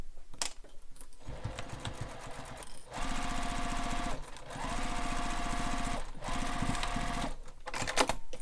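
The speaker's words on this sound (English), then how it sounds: "One thing I'm going to do is just baste across these top edges to really help hold it in place before I stitch it to the bag." Sewing machine basting across the top edges of a beach bag, bursts of fast rhythmic stitching separated by brief pauses and handling noise, close and fairly loud.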